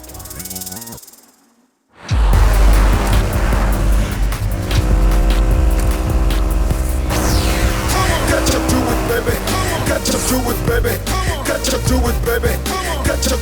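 A car driven recklessly roars in loud and close after a moment of quiet, its engine and tires squealing in a sustained rush of noise with music-like tones layered through it.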